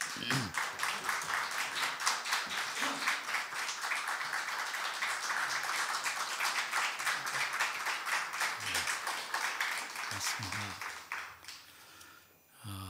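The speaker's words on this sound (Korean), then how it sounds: "우리 목사님 나오실 때 우리 따뜻한 박수로 맞이해 주시기 바랍니다." Church congregation applauding at a Sunday worship service to welcome the pastor, steady clapping filling most of the stretch before tapering off near the end, with a few faint voices underneath.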